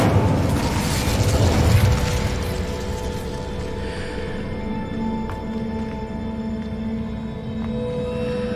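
An Incendio fire spell cast in the Hogwarts Legacy video game bursts out as a loud fiery boom and rush, then settles into a fading rumble and steady hum with a few small clicks, no voice present.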